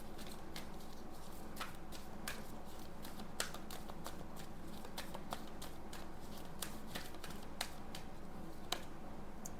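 A tarot card deck is shuffled close by, its quiet riffling and flicking cards forming a soft, steady patter broken by sharper snaps throughout.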